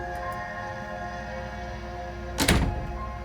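A locked door is tried in the Slay the Princess video game: one brief rattling thunk of the handle against the frame, close and alone over a steady background hum.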